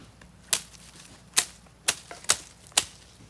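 A live blade slices through a plant leaf in five sharp, crisp cuts at uneven intervals. Each is close and sudden against a quiet background.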